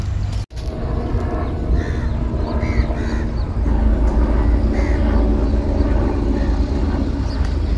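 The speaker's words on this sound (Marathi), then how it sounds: "छान क्रिकेटच्या ग्राउंडवरून हेलिकॉप्टर जाताना दिसतंय. आवाज पण छान वाटतोय." A helicopter flies over a cricket ground, its steady engine and rotor drone loud and close throughout, with faint bird calls above it.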